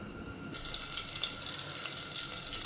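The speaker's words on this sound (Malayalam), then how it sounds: "ഇതിൽ നമ്മൾ 2 സ്പൂണ് വെളിച്ചെണ്ണ ഒഴിക്കും." Coconut oil pours steadily into a pan, a continuous soft hiss that starts half a second in and holds without a break.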